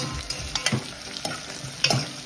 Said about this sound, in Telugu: ఉల్లిపాయలు, పచ్చిమిర్చి వేసుకొని బాగా ఫ్రై చేసేసుకోవాలి.